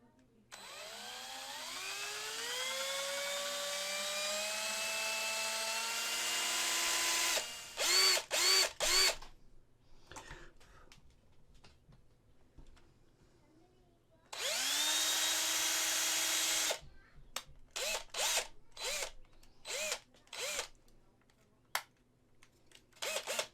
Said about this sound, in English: I'm still drilling.